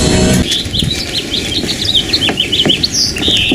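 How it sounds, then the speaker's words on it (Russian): A small bird sings outdoors in a February garden, a rapid series of bright, loud chirping notes repeated through the whole clip over a soft background hum, with no talking. "Птичка вот такая поет."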